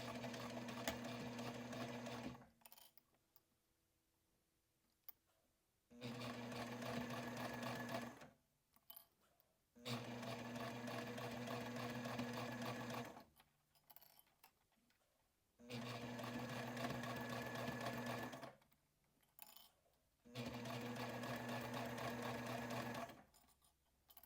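Domestic sewing machine stitching a pocket on a sling bag, running in several steady whirring bursts of a few seconds each, separated by quiet pauses, close and clear with no talking.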